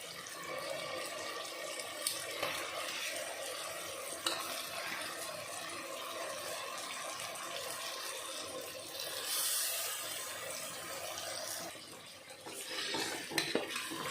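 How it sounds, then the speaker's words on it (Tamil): Salted, spiced chicken pieces are stirred in a pressure cooker for chicken biryani, giving soft scraping and clinking of a utensil against metal with light wet shuffling, fairly quiet and continuous. "சிக்கனை நல்லா மிக்ஸ் பண்ணி விட்டுக்கலாம்."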